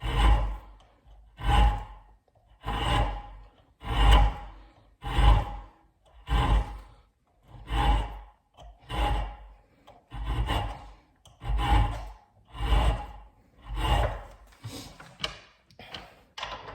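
A hand file rasps back and forth over the damaged threads of a steel bolt, about a dozen even, rhythmic strokes, loud and close, with no talking.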